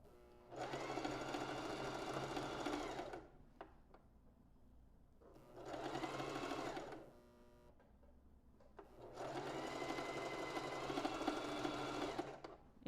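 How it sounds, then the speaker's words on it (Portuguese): A domestic sewing machine running a straight stitch in three separate bursts of rapid mechanical whirring and clatter, close and clear, with quiet pauses between runs. "Então, esse é o ponto reto da minha máquina. Então, vou fazer essa costura reta aqui."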